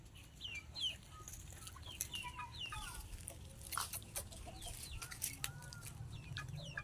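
A chicken or similar fowl clucks and squawks faintly outdoors amid low background rumble, in short scattered bursts.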